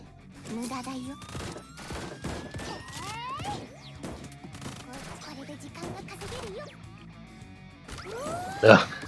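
Gunfire from the mobile game Blue Archive: rapid bursts of shots and impacts crackle continuously under game effects, with one louder blast near the end.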